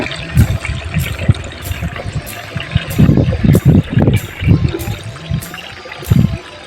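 Water from a large pot poured into a farm sprayer tank, a steady sloshing fill with bursts of gurgling and splashing, close and fairly loud, with no talking.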